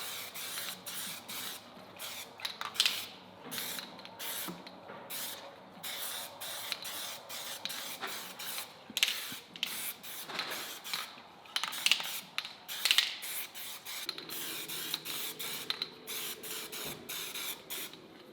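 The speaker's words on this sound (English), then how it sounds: "Is it important for us to paint those, Rob?" Spray gun hissing in short bursts while painting body mount relocation parts for a 5th-gen Toyota 4Runner, steady close-up spraying with brief pauses between passes.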